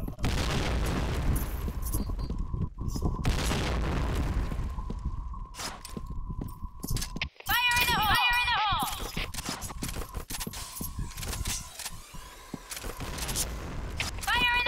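Explosions and booming blasts from a video game ripple through a dense, busy mix, with bursts of rapid gunfire-like crackle and some chirping effects, while a voice talks over the action.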